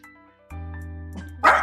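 A single sharp dog bark rings out near the end over a steady low hum.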